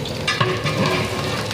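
Whole spices sizzle and crackle in hot oil for a large pot of vegetable biryani, a steady close frying hiss with light stirring.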